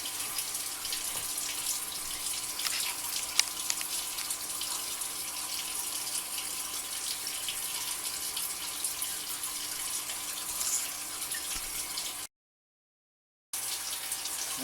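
Tap water runs steadily into a sink during hand washing after handling an aquarium plant dip, a continuous close splashing hiss that briefly cuts out near the end and then resumes.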